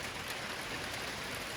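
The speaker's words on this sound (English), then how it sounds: "I'd say that's probably more like a sleet than a hail" Heavy sleet coming down outside a workshop, a dense steady hiss like hard rain with no distinct drops, continuous and fairly soft.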